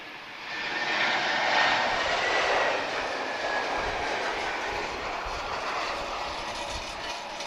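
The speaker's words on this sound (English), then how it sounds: "This is an Embraer E190 long range, Tango Papa Tango." An Embraer E190 long-range jet of Portugalia Airlines arriving at Lisbon airport, its steady engine roar swelling early and then holding at a broad, even level without speech.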